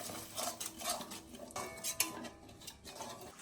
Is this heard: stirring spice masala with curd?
yes